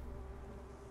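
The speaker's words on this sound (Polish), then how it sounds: "Muchy." Steady low buzzing of flies in Dying Light, a continuous close droning hum with no speech over it.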